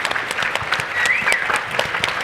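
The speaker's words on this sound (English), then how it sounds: "Let's give these guys a round of applause." An audience at a youth conference plenary session gives a brief, lively round of applause, many hands clapping together fairly close by.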